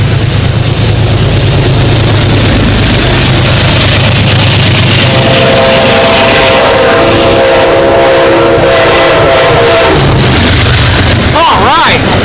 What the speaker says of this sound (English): Amtrak flies through here just like Beacon. He gave us a great horn signal too.